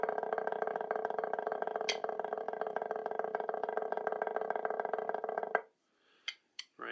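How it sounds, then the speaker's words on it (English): Sustained buzz roll on a snare drum, a dense continuous rattling press roll held steadily for over five seconds, then a sudden stop followed by a few short isolated taps. "you're probably familiar with a buzz roll on a snare drum."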